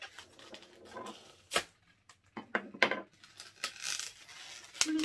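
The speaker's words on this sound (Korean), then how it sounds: "나머지는 필요 없으니까 가위로 잘게요." Scissors snip through leftover latex balloon while a Hello Kitty hair band is shaped from twisted balloons, giving several short, close crisp cuts and light rubbery squeaks and rustles with brief pauses between them.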